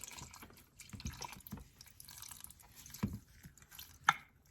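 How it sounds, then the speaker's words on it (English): Homemade fire cider is poured from a container into a milk cloth, giving quiet splashing and dripping liquid sounds with a few small clinks, close and faint, without speech. "So I'm just going to pour it all in."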